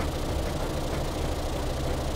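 Engines labouring in the Stormworks video game with a gearbox engaged, a steady low, dense rumble that stays constant and unbroken for the whole stretch, with no talk.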